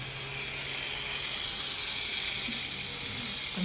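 A Roundhouse model track cleaning locomotive runs slowly but noisily, giving a steady hissing, whirring mechanical drone with no pause.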